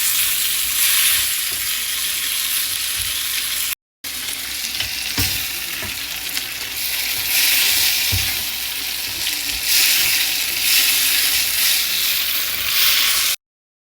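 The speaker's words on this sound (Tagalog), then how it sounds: "Halu-haluin lang natin para maluto yung ating mga ingredients" Callos ingredients with chorizo sizzle and fry loudly in a pan, a continuous crackling hiss with occasional stirring scrapes and a short break partway through.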